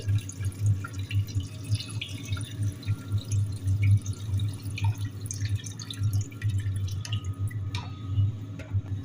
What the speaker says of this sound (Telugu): ఇప్పుడైతే వాటర్ అయితే పోసేసుకుందాం